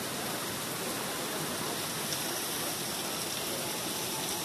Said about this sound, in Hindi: you can see the small waterfall